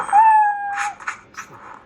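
A cat meow sound font playing from a Darth Vader MPP lightsaber hilt: a thin electronic hum gives way to a few short, close, meow-like cries, with no speech over it.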